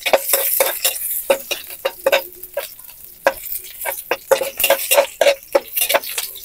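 Onion stirred into golden garlic frying in a pan, a spoon scraping and knocking against the metal in quick irregular strokes over a soft, steady sizzle, close and clear with no voices.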